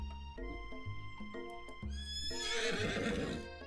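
A horse whinnies in a loud, rising and falling neigh while hooves clip-clop unevenly nearby, the call swelling into a bright, harsh peak before fading.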